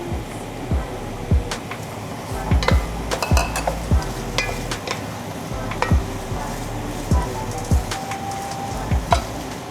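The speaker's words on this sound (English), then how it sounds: "Right, in goes the mushrooms." Mushrooms sizzle steadily in a pan while a utensil scrapes and taps against the metal with irregular stirring clinks. The pan noise is close and moderately loud, with no talking over it.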